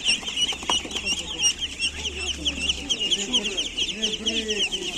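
Chickens cluck and chatter in a busy flock at an outdoor market in Cherkasy, with a person's voice mixed in among the steady, close-up bird calls.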